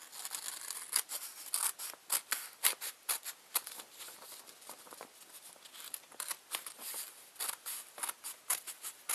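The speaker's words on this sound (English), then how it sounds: "And then you want to cut down the fold." Scissors cutting down the fold of folded paper, giving close, crisp snipping and rustling in quick irregular bursts with no talk.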